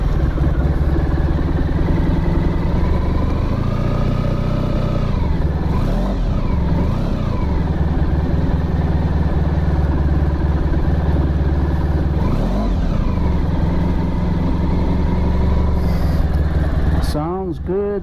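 A Honda ST1100 motorcycle engine idles on choke, a loud, steady throbbing close by with a few gentle rises and falls in revs, ending in a brief burst of higher whining sound.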